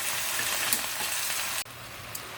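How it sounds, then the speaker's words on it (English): Chicken and root vegetables, including garden-fresh peppers, sautéing slowly in a pot for a purslane stew, giving a soft, steady sizzle with a light crackle and one brief break partway through. "It's just sauteing very slowly, and the root vegetables are beginning to soften up a little bit"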